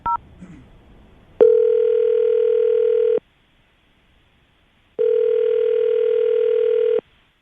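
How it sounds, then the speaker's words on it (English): Two long, steady telephone dial tones on a morning radio show, each running about two seconds with a short gap between, loud and alone, after a brief beep at the start. "we're going to call Lisa right now, get her on the phone"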